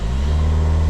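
A 2025 Volkswagen Tiguan SE engine drones loud and steady from close by, held near 2,400 RPM on the brake at the start of a hard launch.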